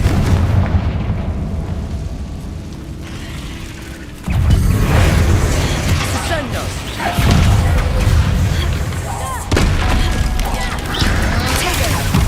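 Explosive Confringo spell blasts in the Hogwarts Legacy video game, heavy booming bursts repeating every few seconds over a loud, dense rumble of combat effects.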